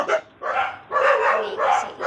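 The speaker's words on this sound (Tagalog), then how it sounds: "Maingay lang yung aso." A dog barks repeatedly in quick, loud bursts, close by, with short pauses between the yips.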